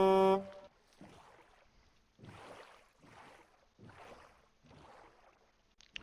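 A single short, tonal horn blast in the Minecraft video game opens the moment, followed by a few softer, breathy bursts at an even pace against a quiet background.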